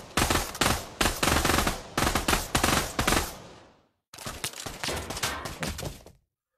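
Rapid automatic gunfire in the VR shooter Pavlov during a deathmatch on the Shack map, loud close bursts in several runs with short gaps between them.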